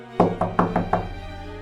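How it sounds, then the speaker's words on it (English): Five quick knocks on a door in an even rhythm, close and crisp with a short ring after each, over a low background hum with faint music. "She knocked on the door."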